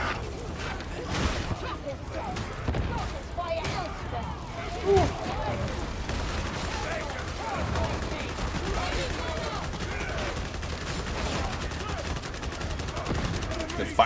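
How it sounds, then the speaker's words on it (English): In Darktide, sustained gunfire pours into a horde as dense, rapid bursts that run almost continuously, mixed with impacts, growls and combat clutter, with a heavier blast near the middle. "They fire into the horde, clear them out."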